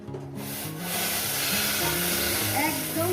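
Water poured into a pan of frying spicy catla fish curry, an abrupt loud, steady sizzling hiss that fills the clip, with a voice speaking faintly underneath.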